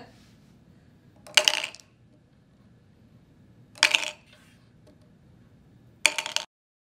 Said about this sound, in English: Can you shake it and roll the dice?